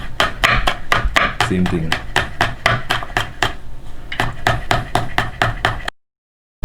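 A knife slices a green banana in rapid, even strokes, close and crisp, about two or three cuts a second. A person speaks briefly over the cutting before it stops into silence.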